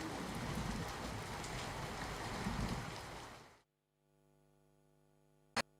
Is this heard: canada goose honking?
no